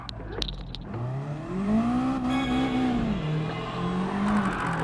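A race car in Gran Turismo 7 drives hard, its engine note climbing and falling through gear changes, with faint tire squeal, loud and alone without talk.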